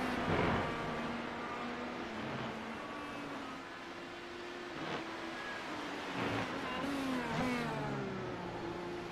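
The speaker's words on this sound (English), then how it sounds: "Such a great shot of these Indy cars." IndyCar race cars at the Grand Prix of Monterey screaming past one after another, high engine notes rising and falling as they accelerate, downshift and brake through corners, heard continuously from trackside or on board.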